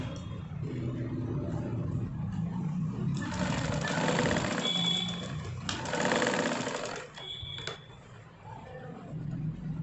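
A sewing machine stitches folded fabric scraps in two or three close, fairly loud whirring runs separated by brief pauses, with a faint hum in the background and no speech.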